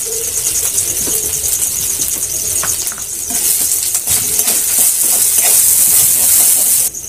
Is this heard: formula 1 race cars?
no